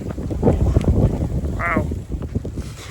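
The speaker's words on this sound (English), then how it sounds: "It's snowing really hard and really windy." Strong wind gusts buffet the microphone outdoors during heavy snowfall in cold weather, a steady loud roar throughout with some voice sounds mixed in.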